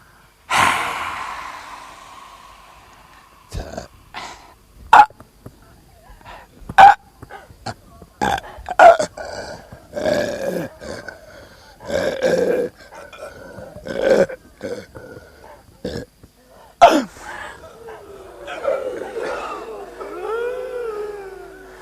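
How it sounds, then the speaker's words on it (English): Slow, drawn-out breathing exercise with long audible exhalations and sharp inhales, repeated several times, close to the microphone, ending in a long airy breath. "The lung sound."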